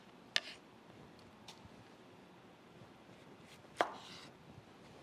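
A knife cuts through a large cucumber in two crisp, separate chops a few seconds apart, set against a quiet, faintly windy background with no talking.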